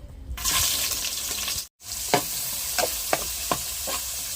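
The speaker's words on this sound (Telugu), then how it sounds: "ఉల్లిపాయలు అయితే మంచిగా ఎగుతున్నాయి" Onions fry in hot oil in a pan for a spinach and egg gravy, with a loud close sizzle that briefly cuts out, then comes back under several sharp stirring scrapes.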